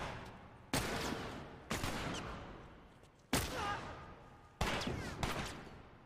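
Four loud gunshots from a gun in The Last of Us, each a sharp blast followed by a long echoing decay, spaced about a second apart and heard close with no speech over them.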